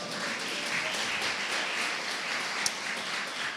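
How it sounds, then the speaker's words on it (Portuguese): Applause for a woman praised during a Portuguese-language church sermon on work: a dense, steady wash of clapping from the audience that holds evenly for a few seconds, fairly soft and distant. "Não sei se vocês davam uma salva de palmas para Jesus"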